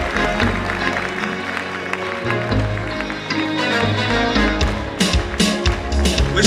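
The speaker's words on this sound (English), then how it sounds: "Please, a round of applause for her." Audience at an awards gala in a Kampala hotel applauding as a woman comes on stage, steady crowd clapping over a low, droning background with a sharper flurry of claps toward the end.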